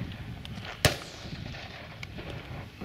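A shotgun fires a single sharp report at driven partridge on an outdoor shoot. The crack is moderately distant and is followed by a faint rolling tail and light ambient outdoor noise.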